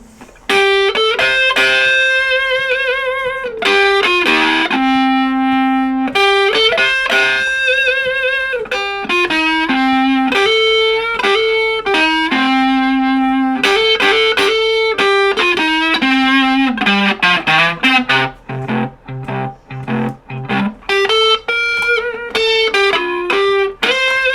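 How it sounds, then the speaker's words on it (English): A heavily distorted electric guitar plays a sustained, wavering melody with bent and warbling notes, loud and continuous with brief choppy breaks near the end. "Just for the hell of it, I'm going to turn the distortion on."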